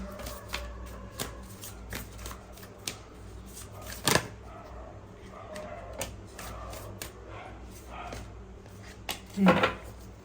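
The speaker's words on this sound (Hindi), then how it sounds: "let me arrange these cards first" Tarot cards are shuffled and laid out by hand, a steady run of soft riffling flicks and taps with a couple of louder slaps and shuffles, close and clear with no speech over them.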